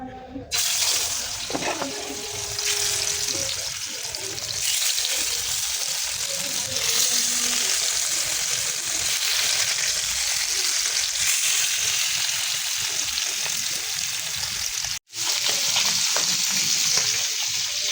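Small freshwater fish frying in hot oil on a flat tawa, a steady loud sizzle that runs nearly unbroken for the whole stretch, with one brief cut near the end and faint clatter underneath.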